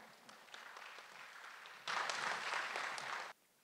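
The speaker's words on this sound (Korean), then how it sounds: "조 교수님 환영하는 박수로 모시겠습니다." Audience applause welcoming a professor at a toilet-culture conference, a steady crowd clapping that swells louder midway, holds, then cuts off abruptly.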